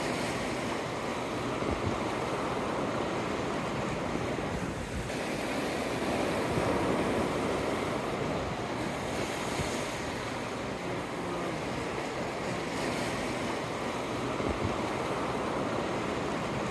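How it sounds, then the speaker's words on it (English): Ocean surf rolls steadily onto a beach in San Juan, Puerto Rico, a continuous dense wash of breaking waves with some wind rumble, no voices, constant and fairly loud throughout. "in this beach in New San Juan. It's so pretty."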